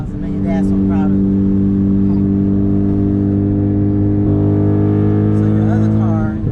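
A turbocharged Ford Focus ST, about 400 horsepower, drones loudly from inside as it drives, its steady engine note rising as it accelerates, while people talk over the noise.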